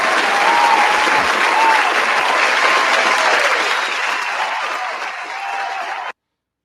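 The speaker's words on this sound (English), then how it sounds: "round of applause for Gunther" Loud, steady applause and crowd noise at an awards show honoring Gunther as Men's Wrestler of the Year, sustained for about six seconds before cutting off abruptly.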